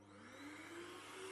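An Aqua Viva dust mite vacuum cleaner runs steadily close by, a loud continuous motor whir with a slowly rising tonal whine and no voices.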